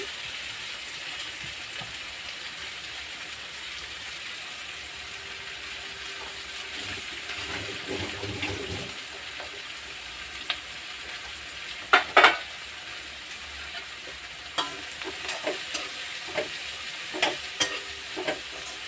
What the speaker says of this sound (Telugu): మనం ఉల్లిపాయలు వేసేసుకుందాం ఉల్లిపాయలు పచ్చిమిర్చి కూడా వేసేసుకుందాం